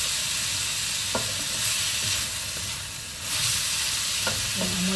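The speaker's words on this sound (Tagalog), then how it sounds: "Pero igigisa ko sa ginger, yung ano, yung liver" Pig liver being sautéed with ginger in a pan gives a steady sizzle with a few sharp clinks of a utensil stirring against the pan. The hiss swells and dips briefly near the middle, and no one speaks.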